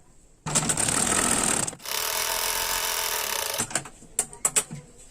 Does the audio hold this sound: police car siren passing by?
no